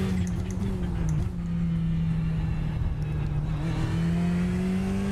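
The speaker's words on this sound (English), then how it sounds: "A nice little turbo flutter." Ferrari 488 GT3 Evo in the iRacing sim at the Hungaroring, its engine droning steadily with small fluttering turbo whooshes over it, a close in-car sound with brief pitch dips at gear changes.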